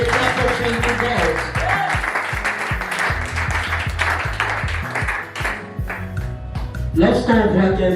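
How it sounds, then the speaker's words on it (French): An audience at a leaders' convention claps rhythmically in praise to God, steady repeated beats running under loud voices and music throughout. "I want us to give a clap of praise to God"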